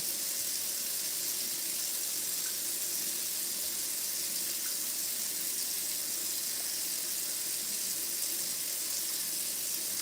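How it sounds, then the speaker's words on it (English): Water runs from a kitchen tap in an unbroken, even rush for the whole stretch, close and fairly soft, with no talking. "I'm letting this water run."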